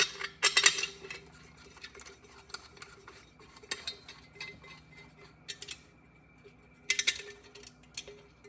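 Metal bolts clink and tick faintly as they are set and started by hand on a 1992 Subaru Sambar engine during a rebuild, a few sharp clustered metallic taps separated by quieter handling sounds.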